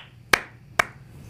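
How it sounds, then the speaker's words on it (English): Two sharp hand claps about half a second apart, crisp and close in a quiet room, each with a short decaying tail. "like clapping"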